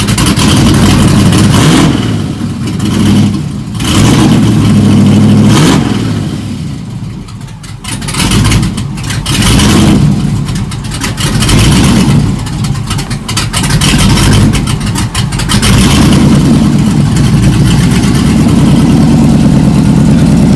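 Loud, sustained engine of an LS-swapped 1970 Chevrolet Nova revving hard through the gears, the roar rising and dipping with each shift before climbing again, heard alone without voices.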